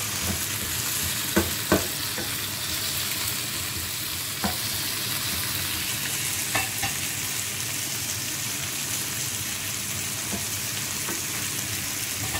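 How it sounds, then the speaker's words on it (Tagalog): Tomatoes sauté in a hot pan with a continuous loud sizzle, broken by a few sharp clicks and scrapes of stirring, with no talk. "aminin natin na maluto-luto na yung tomato"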